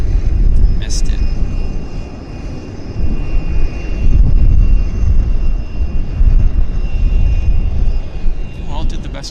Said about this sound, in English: There's the BizJet taxiing out right there